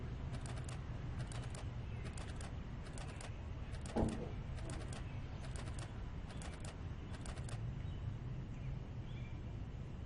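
A window being forced open in the video game Project Zomboid: a steady series of about nine evenly spaced creaking, scraping rattles over a constant low background drone.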